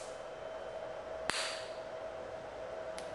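A single sharp bang as a capacitor discharge ignites squirted water in a homemade water power test, one crisp crack over a quiet hum, with a fainter tick near the end.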